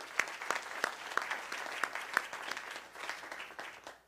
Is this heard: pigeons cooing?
no